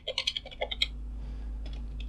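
Rapid keystrokes on a computer keyboard while entering Linux commands, a burst of close, crisp clicks over about a second, then a steady low hum.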